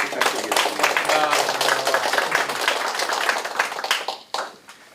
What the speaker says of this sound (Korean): 우리 김창기 회장님께 큰 박수 좀 한번 부탁드리겠습니다